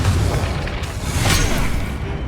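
A Confringo fire spell explodes in Hogwarts Legacy during a boss fight, a dense, loud burst with rumbling low end and a hissing crackle that swells midway, with no talk.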